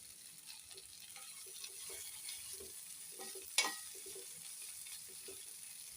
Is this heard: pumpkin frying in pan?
yes